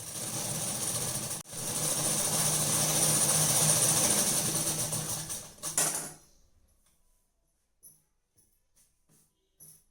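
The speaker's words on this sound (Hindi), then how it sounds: "अब इस नई फैब्रिक को हम ऊपर से रखेंगे और इसे इस तरह से सिलाई करेंगे।" A sewing machine stitches net fabric for a party-wear dress, running in a steady loud continuous whir for several seconds with a brief pause, then stopping, followed by faint scattered clicks.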